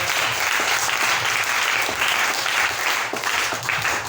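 Church congregation applauding for the Lord, a dense steady round of clapping filling the room, loud and continuous, with faint crowd voices mixed in.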